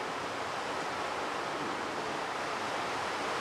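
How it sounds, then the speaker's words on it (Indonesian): Heavy rain pours down steadily in a dense, continuous wash of broadband noise with no breaks, close and loud throughout, with no voices over it. "maaf hujannya deras sekali guys"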